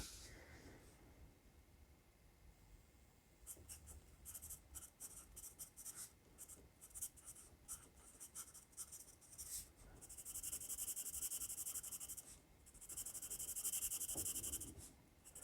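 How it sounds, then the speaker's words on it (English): A wood pencil with no eraser or ferrule writes on paper, giving a dry, scratchy rasp in uneven bursts of strokes that get denser and louder toward the end, heard alone and close. "Whenever you have a wood pencil that does not have an eraser or ferrule, you get a specific type of vibration, I notice, and sound."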